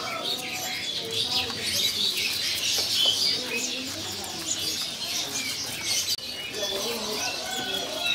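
Tepus pipi lurik birds at a bird kiosk chirp and tweet continuously in a busy chorus, with occasional fluttering and a faint voice in the background.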